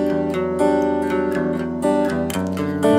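Electric guitar finger-picks a flowing pattern over changing chords, steady and close, with bright sustained notes and no talking.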